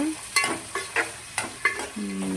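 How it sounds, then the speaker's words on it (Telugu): Sliced ivy gourd frying in a hot pan, stirred in a steady rhythm of six or seven scraping strokes over a constant close sizzle, with no talking. "దొండకాయలు వేసుకొని అవి బాగా ఫ్రై అవ్వాలి."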